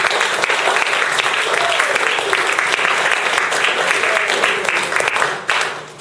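A congregation at a church service applauds for Christ, dense sustained clapping from a large crowd filling the room, loud and continuous before tapering off near the end.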